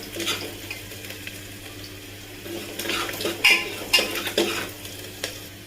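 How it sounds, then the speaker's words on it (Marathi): Cumin and onion sauté in a pressure-cooker pot with a continuous sizzle. Toward the end, stirring grows busier, with scraping and knocks of a utensil against the metal. "कांदा थोडासा परतून घ्यायचा"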